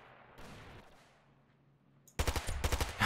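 Ravenfield video game gunfire: a quiet stretch with faint distant shots, then a sudden burst of loud, rapid automatic fire rattling densely through the final second.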